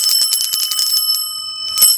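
A small bell holding three little chimes jingles in quick repeated shakes, bright and close, pausing briefly before one final ring.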